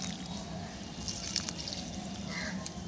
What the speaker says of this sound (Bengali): এইভাবে জল দিয়ে দিচ্ছি